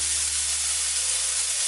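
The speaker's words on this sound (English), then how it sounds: "So what I'm going to do is put the beef patty on it." Beef patty laid into a pan of hot olive oil, giving a steady, dense sizzling hiss that holds close and even throughout.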